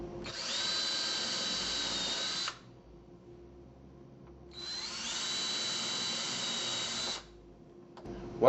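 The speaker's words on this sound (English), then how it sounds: "Now you want to go about 1 inch over from the frame and pre-drill your holes for the screws." Power drill pre-drilling screw holes through a shutter hang strip frame, two steady whining runs of about two and a half seconds each, separated by a quiet pause.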